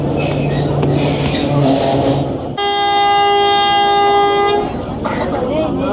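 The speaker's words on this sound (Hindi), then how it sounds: "PHA का हॉर्न ज़ोरदार।" A locomotive horn on a 267UP train between Rawalpindi and Havelian blares loud and steady for about two seconds, heard close from the first coach, with station bustle and voices before and after.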